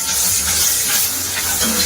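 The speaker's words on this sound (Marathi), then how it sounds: "यामध्ये आता आपण ठेचलेला मिरची आणि लसूण घातला आहे" Crushed green chilli and garlic fry in hot oil with a continuous close, loud sizzle and hiss, steady for a couple of seconds with no voices.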